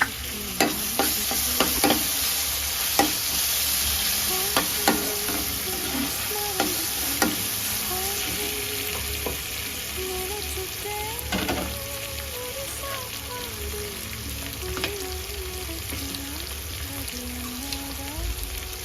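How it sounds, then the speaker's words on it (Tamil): Onion and ginger-garlic paste sauté in a pan for a Tamil-style chicken fry, a continuous close sizzle broken by scraping stirs and spoon knocks, with a voice talking faintly underneath. "வெங்காயம் நல்லா வதங்கிடுச்சு. இஞ்சி பூண்டு பேஸ்ட்டு கூட நல்லா வதங்கிடுச்சு."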